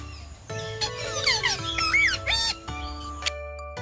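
A parrot lets out a run of sharp squawks and chirpy whistles, several calls in quick succession over a faint hum, ending with a short click.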